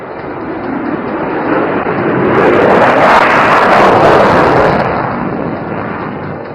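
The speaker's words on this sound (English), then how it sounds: "the F-35 is rearing and gearing for a short" An F-35 fighter jet makes a short takeoff at an air force station flying display, its broad roar swelling to a loud peak and then easing slightly as it stays strong throughout.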